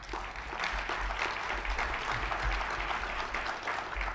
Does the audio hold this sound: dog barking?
no